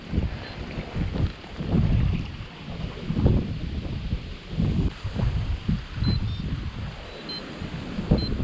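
Gusty wind blows over open water at night during eel fishing, a steady rushing roar that swells and eases in irregular waves, close to the microphone, with no talking.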